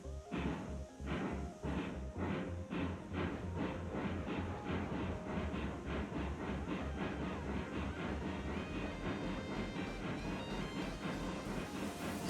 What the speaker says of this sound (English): So we got these locomotives that are just ready to go. Got them all fired up. We're going to get going.